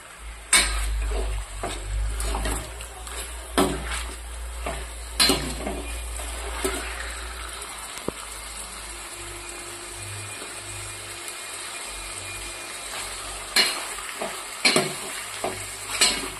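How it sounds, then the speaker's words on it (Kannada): Dhaba-style chicken curry stirred in a pan over a high gas flame: scattered loud scrapes and clanks of a ladle against the pan over a continuous sizzle and low burner rumble, close up, no voices. "ಗ್ಯಾಸ್ 5 ನಿಮಿಷ ಜೋರು ಇಟ್ಟಿರ್ತೀವಲ್ಲ ಆ ಟೈಮ್ದಾಗ ಪಟ ಹಿಂಗೆ ತಿರುಗಾಡಬೇಕು"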